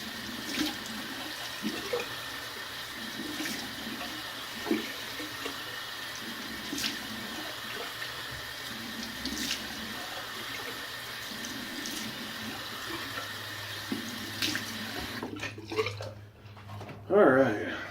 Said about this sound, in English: Go ahead and cold water rinse.